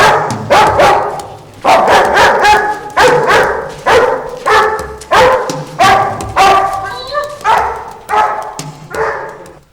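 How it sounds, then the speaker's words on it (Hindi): Dogs bark repeatedly in a Pakistani drama scene, loud, close bursts of barking with yips and whimpers in an irregular rhythm throughout. "तो वो कुत्ते उसे जान से मार देंगे नोमी"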